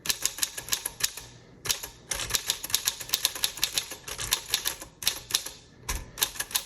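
Rapid keystrokes on a 1946 Smith Corona Silent typewriter, a steady run of crisp clicks in irregular bursts with brief pauses, close and clear with no talk.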